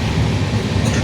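Riding inside a moving passenger train: a loud, constant low rumble and rattle fills the carriage without break.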